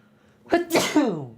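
A person sneezes once nearby: a short indrawn breath, then a sharp explosive burst trailing into a brief voiced tail, loud against a quiet room.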